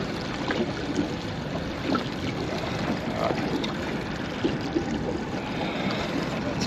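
A fishing boat's outboard motor idling out on the water, a steady low rumble with water lapping and trickling against the hull, moderately close and continuous.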